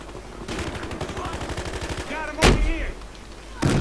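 Rapid automatic gunfire in Battlefield Hardline, a fast rattling burst followed by a few sharp loud shots, with a voice shouting over the action.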